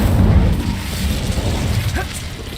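Incendio fire spell cast in the Hogwarts Legacy video game, heard as a loud, sustained low rumbling blast with crackling bursts during combat, alone for about two and a half seconds.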